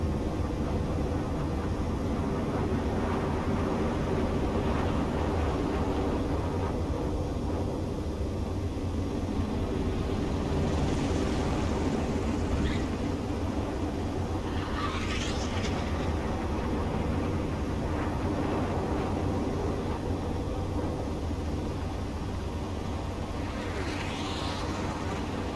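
A fighter jet in Ace Combat 7 touches down and rolls along a runway, a steady loud engine roar and rumble with a few brief hissing swells, no talk over it.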